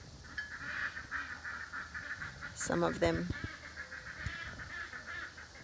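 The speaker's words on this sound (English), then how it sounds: "those are our ducks over there." Ducks quack in a short, honking cluster from a few metres away in a leafy garden at morning, over faint bird calls and background ambience, with someone speaking briefly.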